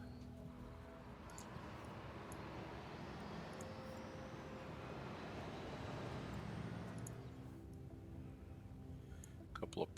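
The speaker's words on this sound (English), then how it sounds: "I hear lots of buses." Steady city traffic hum with passing vehicle engines in a SimCity game, buses among the flow, a continuous mid-level drone throughout with brief clicks near the end.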